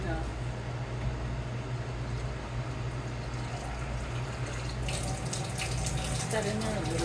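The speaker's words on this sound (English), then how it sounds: "So now I'm going to put some water in with this." Water runs steadily into a pail for cooking in a kitchen, a continuous splashing flow at close range that turns brighter and fuller toward the end.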